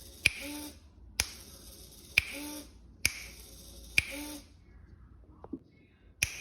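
Finger snaps meant to trigger a sound-activated servo motor driven by an ESP32 with an INMP441 microphone: five sharp, evenly spaced snaps up close, a faint brief mechanical whir after the last, then one more snap.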